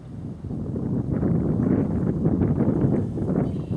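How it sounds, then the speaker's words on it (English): Light wind buffeting a microphone outdoors during early spring fishing, a steady broadband rush that rises and holds, fairly loud and close with no voices. "we do have a slight wind"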